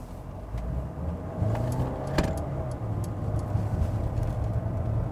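A Mercedes-Benz A220 sedan drives in sport mode, heard from inside the cabin as a steady low road and engine rumble. A bright click or jingle sounds partway through.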